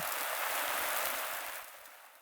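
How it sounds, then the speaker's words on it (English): A soft, continuous hiss of fine grains pouring, steady at first and then tapering off toward silence. "this sand being poured,"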